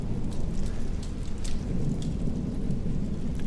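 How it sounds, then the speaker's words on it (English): Steady rain pours down with a deep rumble of thunder rolling underneath, continuous and enveloping, with no voices. "Tonight, the rain is gentle, but the thunder reminds me"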